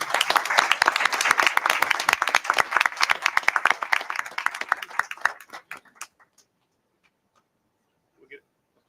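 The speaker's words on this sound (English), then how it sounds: "we want to give you a round of applause" An audience at a school district board meeting applauds a board member's leadership with dense, lively clapping for about six seconds before it thins to a few scattered claps and silence.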